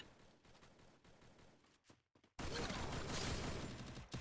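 Gunfire in a GTA match, first a dense stretch of rapid shots that drops briefly to near silence, then a loud, sustained burst of automatic fire filling the second half.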